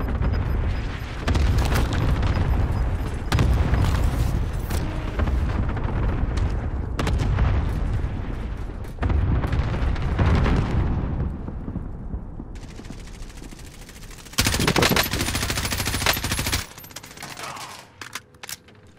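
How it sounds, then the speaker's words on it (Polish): An airstrike and gunfire in Call of Duty Warzone bring long, rumbling explosion bursts and rattling fire one after another, loud and close, with brief lulls between the blasts. "Ale ci nalot."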